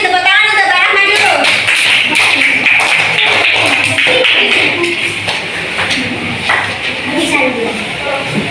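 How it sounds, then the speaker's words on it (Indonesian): Loud, close clapping from a classroom group of teacher trainees welcoming a presenter, brisk uneven hand claps with taps and thuds, voices talking over and after it. "Tepuk tangan untuk Mbak Rahma dulu"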